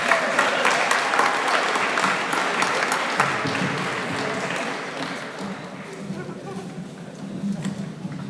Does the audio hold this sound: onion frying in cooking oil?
no